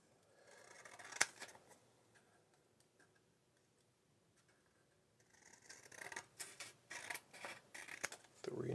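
Scissors snip in a quiet room: one sharp isolated cut, a long pause, then a rapid run of repeated snipping close to the microphone.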